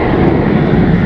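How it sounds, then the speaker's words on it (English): An airplane takes off nearby in Los Angeles near Playa Del Rey, a loud, steady engine roar that fills the whole second without a break. "We got an airplane taking off over there."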